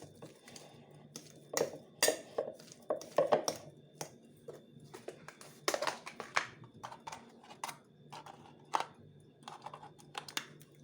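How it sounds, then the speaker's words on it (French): Potatoes mashed by hand in a bowl, a series of irregular soft thuds and clinks of the masher against the dish, close and moderately quiet, with uneven rhythm and no talk. "Je suis en train d'écraser ma pomme de terre."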